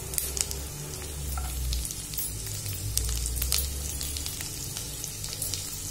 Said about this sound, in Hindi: ये मैंने लहसुन है बारीक कट करके डाल रही हूँ। इसको भी अच्छी तरह फ्राई कीजिए।